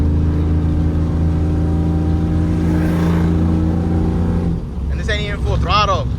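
A pickup truck's engine revs hard and steady while the truck slides through donuts at part throttle, a loud sustained roar that keeps going as people start talking over it near the end.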